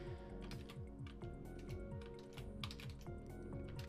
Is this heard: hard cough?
no